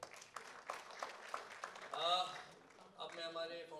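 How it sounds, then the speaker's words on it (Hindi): An award show audience breaks into loud applause, with a broadband wash of clapping that swells and fades as a voice speaks over it. "जोरदार तालियां हो जाए दोस्तों।"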